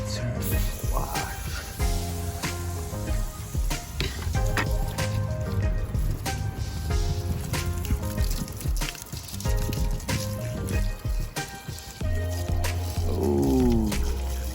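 Water sprays and splashes continuously over a very dirty Acura TSX during a wash, with trickling and dripping throughout. A person talks intermittently over it.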